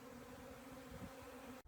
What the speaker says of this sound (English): Are you guys used to being in a swarm of bees?